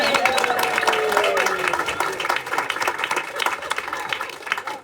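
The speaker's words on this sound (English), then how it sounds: "Please give him a round of applause." Applause and clapping from diners at a Christmas dinner in the Phoenix Café at Findhorn Ecovillage, a lively uneven patter with some whoops and voices mixed through it.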